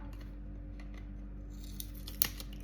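Scissors snip petal shapes into a plastic refill pack, a few quiet close cuts with one sharper snip near the end over a low steady background hum.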